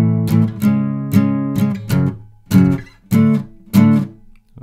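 Acoustic guitar strumming the chorus chords of a song, with about eight loud rhythmic strums in short bursts, close and alone.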